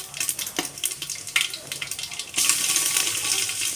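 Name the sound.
curry leaves, cumin and mustard seeds sizzling in hot oil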